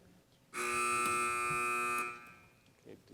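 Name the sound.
quiz buzzer sounding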